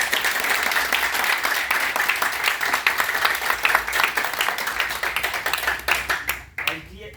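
Seminar audience claps in a steady, fairly loud burst of applause with distinct individual hand claps, ending abruptly with a brief voice and noise at the close.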